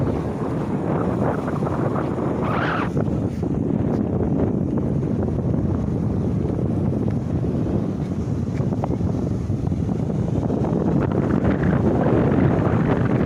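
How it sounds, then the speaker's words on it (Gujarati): Strong wind roars steadily outdoors near a riverside road washed out by floodwater, a loud continuous buffeting across the microphone with no one speaking. "અવાજ તો બહુ આવતો હોય પવનનો પણ"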